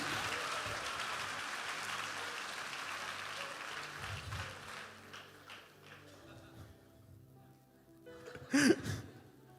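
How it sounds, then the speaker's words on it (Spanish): Audience at a pastor's sermon breaks into loud, sustained applause that gradually thins out, followed by a short, sharp burst of clapping near the end. "denle un aplauso a todos los extras y al protagonista"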